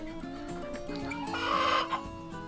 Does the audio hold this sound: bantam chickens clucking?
yes